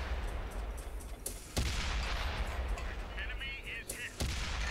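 World of Tanks tank cannon fire: two sharp, heavy booming shots stand out over a constant rumble of battle noise and scattered distant firing.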